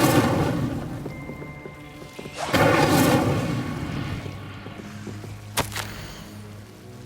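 Incendio fire spell cast in Hogwarts Legacy, a dense whooshing roar of flame with sharp crackling bursts that swells and fades over several seconds, loud and close.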